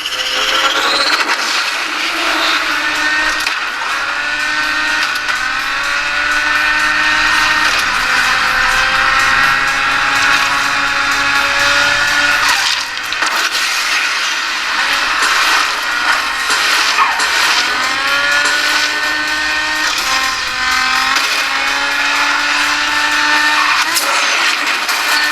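A racing video game car engine plays loudly through a POCO X5 Pro phone speaker, its revs rising and falling continuously with gear changes for the whole stretch, with no talk.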